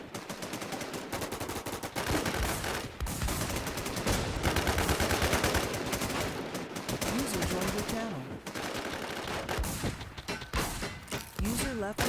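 Video game gunfire rattles on in dense automatic bursts for the whole stretch, loud and close, mixed with thumps and crashes, while voices talk over it.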